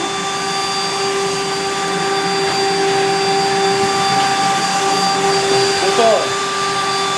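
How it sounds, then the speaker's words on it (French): A household vacuum cleaner runs continuously at close range with a steady, loud drone and a high whine, during a busy large-family home cleanup. "Léo continue l'aspi, Théo il a pris le relais un peu."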